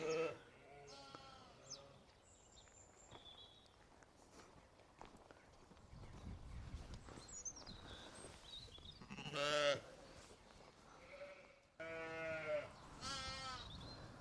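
Sheep and lambs bleat repeatedly at close range, some high and wavering, with footsteps and shuffling movement between calls; one lamb has a sore knee.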